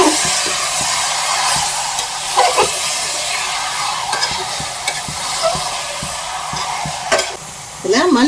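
Chicken fries in a hot pan with a steady sizzle and hiss, while a utensil scrapes and stirs in repeated close knocks and clatters.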